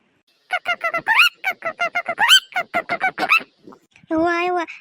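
A hen gives rapid, rhythmic clucking calls in short bursts, then one longer drawn-out squawk at the end, close and fairly loud.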